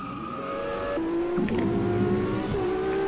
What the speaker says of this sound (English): Do you hear what the sound of this engine? Pretty sure that's a V12 or V8.